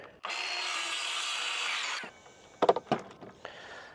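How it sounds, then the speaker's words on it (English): A power saw cuts straight through a wooden board for a camper-van shelf, a loud steady whine lasting about two seconds, followed by a few sharp knocks and lighter handling noises. "Got it lined up to compensate for the width of the edge of the saw here."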